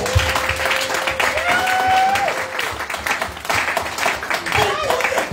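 A church congregation applauds in sustained, lively clapping, with voices calling out and a drawn-out vocal shout rising above the hands.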